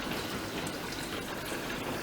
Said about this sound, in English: And we're just going to fill our container.